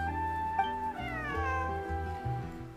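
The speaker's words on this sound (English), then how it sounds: "This is my friend's cat." A cat in Genshin Impact lets out a long, drawn-out meow that bends in pitch, close and clear over soft background music, with no speech.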